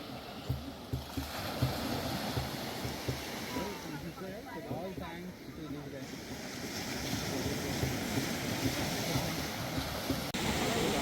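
Sea waves wash up onto a beach at a night-time campsite at Adhira Beach near Mumbai, a steady roar of surf with wind noise, heard close and fairly loud throughout.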